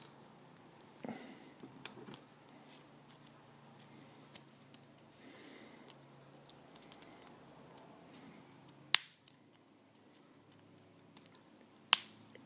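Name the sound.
sharp scissors snipping centre out of model railway wheel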